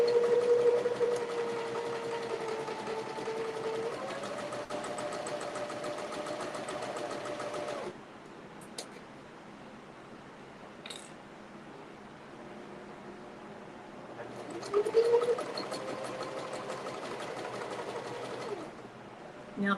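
A sewing machine stitches down the side of a child's purse, running steadily for about eight seconds, pausing, then running again in a shorter burst, close and clear with no talk.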